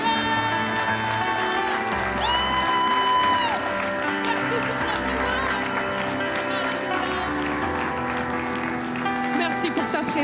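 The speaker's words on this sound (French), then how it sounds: "Reçois une dernière fois notre acclamation, Seigneur Jésus, en ce matin" Church congregation applauding and cheering in acclaim at a morning worship service, steady sustained clapping with whoops, mixed with sung or held musical tones throughout.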